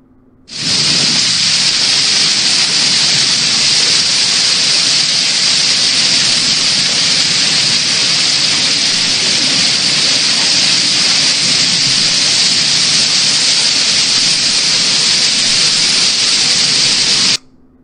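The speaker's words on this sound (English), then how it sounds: "This looks like this was actually captured during the hailstorm." A hailstorm in Girona, Spain makes a dense, unbroken roar of falling ice, loud and constant for about sixteen seconds, then cuts off abruptly.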